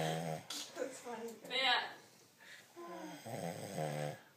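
A man snores in repeated harmonic, nasal rattling breaths close to the listener, each breath about half a second long. A nasal septum problem needs repair. The snores have short pauses between them and no other voices.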